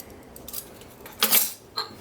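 A spoon clinks against a bowl while stirring sweet chili sauce, a few soft, close metallic taps with one brighter clatter, otherwise quiet.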